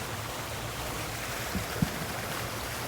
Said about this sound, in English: I like how the water's running today. Waterfalls and the fountains are just absolutely magnificent.